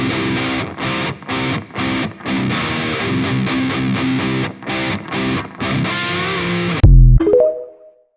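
Distorted electric guitar chugs out the chorus riff of a song from Fortnite Festival in steady palm-muted bursts with brief gaps, ending on a bent note that rings and fades.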